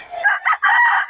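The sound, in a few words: rooster crowing at a market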